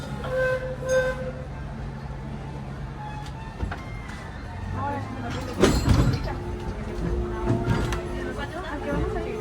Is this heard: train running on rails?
yes